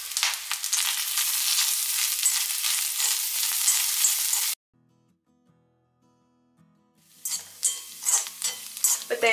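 Grated coconut and curry leaves roasting and being stirred in a hot pan for a Kerala erissery, with steady sizzling scrapes that stop midway, leaving near silence before stirring and sizzling resume in bursts.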